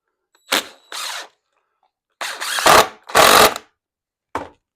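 A power drill drives a screw into wood while a tenon-cutting jig is assembled, sounding as several loud whirring bursts of varying length separated by short pauses, close and alone.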